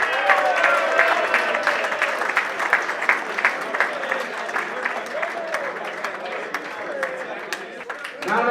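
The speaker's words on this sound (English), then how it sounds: "Round of applause, please." Applause fills a boxing venue after the red-corner fighter is announced winner of bout two, steady crowd clapping with individual sharp claps and some cheering voices mixed in, loud and continuous.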